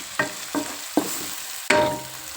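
Chopped onions for an onion-sprout vada curry are stirred in a hot pan, with a few distinct scraping strokes over a soft, steady sizzle and no talking.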